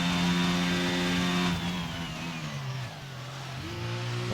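A race car engine drones at high revs on the back straight of a Japanese circuit, its steady pitch shifting down through gears as it holds a continuous, moderately distant roar.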